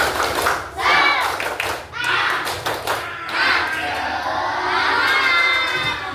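Schoolchildren in a classroom do a rhythmic clapping chant, with bursts of sharp, close clapping alongside excited shouting and cheering voices that swell together and then settle into a sustained, lively group noise.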